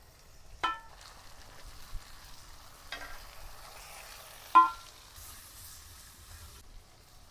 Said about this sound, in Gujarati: કટિંગ કરેલ ટમેટા નાખશું,